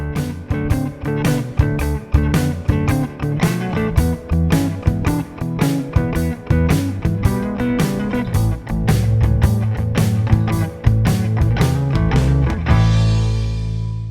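A blues guitar strums a chopping rhythm over a full backing track with bass and drums, steady and loud throughout.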